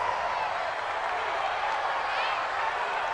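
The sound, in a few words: crowd cheering in Madden NFL 20 video game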